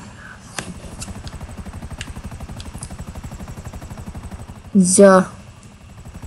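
A helicopter flies low in GTA 5, a steady rhythmic rotor thump running throughout with a brief louder burst near the end, heard under a short spoken word.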